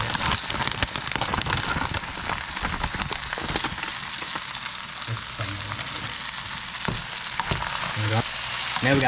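Sausage fries in a pan for a homemade Alfredo meal, a dense, continuous sizzle with crackling pops and occasional stirring knocks, close and steady throughout with no talking.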